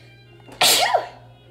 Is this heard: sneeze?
yes